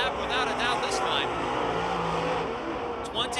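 A race car circles the Pennsylvania Motor Speedway oval near Pittsburgh with a loose handling condition, its engine a steady drone under continuous commentary from a race announcer.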